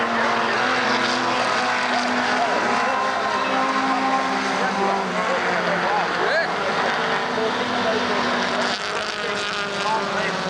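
Saloon race cars, including a Mustang and a Jaguar, thundering around Donington Park in a pack, layered engine roar with shifting tones, loud and continuous, with a commentator talking over it.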